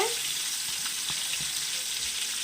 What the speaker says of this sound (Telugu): బిర్యానీ దినుసులు, బిర్యానీ ఆకులు, టమాటా, పచ్చిమిరపకాయ, ఉల్లిపాయ అయితే వేసుకొని అయితే వేయించుకున్నానండి.